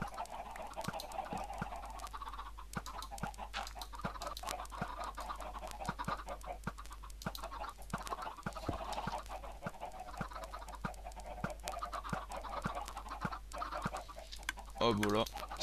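Chickens clucking on a Minecraft-style video game farm, scattered soft clucks and squawks repeating over a low steady hum, fairly faint and without any talking.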